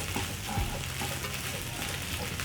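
Sliced onions sizzle and fry in a pan, a steady close hiss with occasional stirring scrapes and clicks from a utensil.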